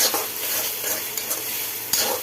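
Onion, ginger and garlic frying in a pan: a loud, dense sizzle close up, steady throughout, with a spatula scrape or clink near the end and no speech.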